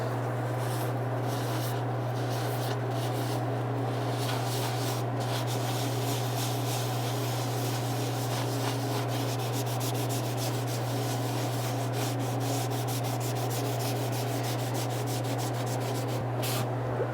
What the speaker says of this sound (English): Just gonna hit this really lightly with 150 grit and see if that's...